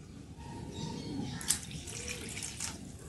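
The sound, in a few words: water poured into pot of toor dal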